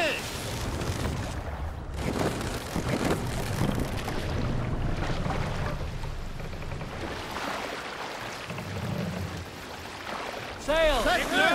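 A Viking sailing ship in Assassin's Creed Valhalla pushes through rushing wind, with broad gusty noise, creaks and splashes, and voices calling out over it.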